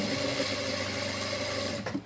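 A sewing machine runs a steady, continuous whirring stitch on a boat neck blouse, sewing a tension stitch at the start of the seam, then stops just before the end.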